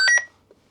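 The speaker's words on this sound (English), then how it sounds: "Turn the beep down." Two short, loud electronic beeps in quick succession from an RT95 radio, followed by near silence with a faint click.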